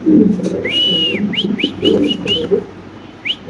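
Pigeons at a pigeon farm give several short whistling calls and coos, close and fairly loud over a dense low murmur of birds in the loft.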